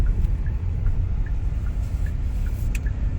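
A Hyundai Santa Fe Hybrid pulls away under throttle on a test drive, a steady low road and engine rumble heard from inside the cabin with faint ticking over it.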